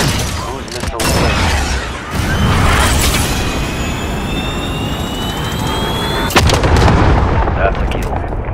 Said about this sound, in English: Cruise missile target ready to mark. Launch. Hit them now.